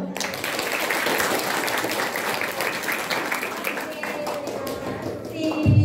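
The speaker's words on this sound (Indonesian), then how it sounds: "Tepuk tangannya dong." A group of students at a school orientation event claps steadily for several seconds, with voices and chatter mixed in beneath the applause.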